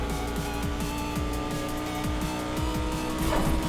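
A Lamborghini Huracan Performante Spyder engine screams at full throttle in Need for Speed, a loud, continuous high-revving roar with rapid upshifts and a brief tire squeal near the end.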